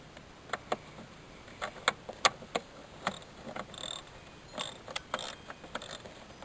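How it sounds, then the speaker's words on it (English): A 10mm ratchet loosens bolts on the wiper motor of a 1980s Chevrolet Caprice, giving sharp, close clicking bursts in irregular quick runs over a quiet background. "Also, 10mm ratchet required. Loosen these guys off."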